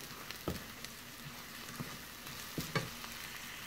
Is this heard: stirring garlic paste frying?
yes